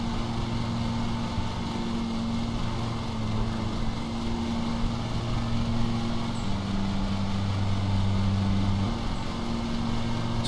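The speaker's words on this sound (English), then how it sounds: "Then you'll be able to hear it make different sounds, bog down and stuff." Lawn mower engine in the Lawn Mowing Simulator game, a steady droning hum whose pitch drops and strains partway through as it bogs down, then picks back up, continuous and fairly loud with no talking.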